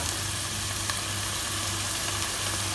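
Rosemary and bay leaves are stirred into a pan of bolognese ragù, giving a steady, loud, dense sizzle of frying that holds unbroken throughout.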